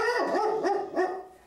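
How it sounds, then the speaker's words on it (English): A pet dog barks close by in a run of two or three loud, tonal barks with a whiny, yipping edge, fading toward the end, with no talking over it. "you gonna be a good boy and stop barking?"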